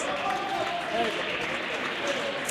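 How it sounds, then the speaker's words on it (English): Fans in the stands at a pool money match applaud a shot with a steady wash of clapping that holds evenly throughout, while a commentator keeps talking over it. "And gets a round of applause from the fans in the stands who did pay to watch him."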